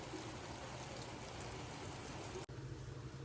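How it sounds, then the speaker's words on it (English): Soft drizzling rain patters steadily as a fine, faint hiss, with a brief cut near the end. "It's a soft rain today."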